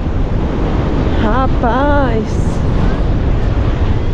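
Strong wind roars across the beach at Guarujá after rain, a constant loud rushing buffet on the microphone with surf mixed in, while someone speaks briefly over it.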